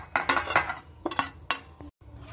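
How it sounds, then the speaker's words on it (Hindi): A spoon clinks against a bowl while omelette batter for a vegetable omelette is mixed, several quick bursts of scraping and clinking in a loose rhythm, close and fairly loud. "अब इसे अच्छे से मिक्स कर लेंगे।"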